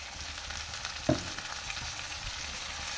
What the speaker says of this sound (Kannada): ಗ್ಯಾಸ್ ಬೇರೆ ಲೋ ಫ್ಲೇಮಲ್ಲಿಟ್ಟು ಫ್ರೈ ಮಾಡ್ತೀವಿ